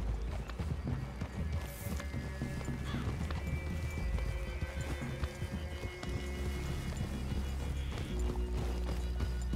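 In the video game Red Dead Redemption 2, horses move through a forest clearing with steady hoof clip-clops. A whinny cuts in over a busy, continuous wash of movement and ambient noise.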